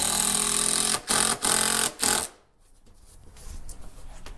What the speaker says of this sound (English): You're going to go ahead and put your screw in.